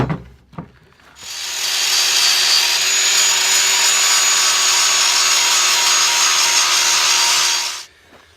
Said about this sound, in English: I got my big 7-inch grinder here, should make pretty quick work of it